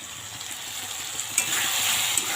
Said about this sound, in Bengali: সব কিছু তো মোটামুটি ভাজা ভাজা হয়েই এসছে